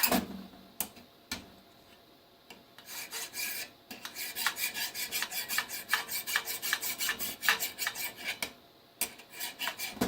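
Harsh rasping scrapes as rust is scraped off a metal cabin heater part, first a few isolated strokes, then a rapid run of repeated scraping strokes, close up with no talking.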